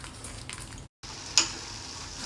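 Ghee sizzles quietly in a pan while a festival sweet cooks, a soft continuous fry broken by a brief silent gap and a single sharp clink of a utensil partway through.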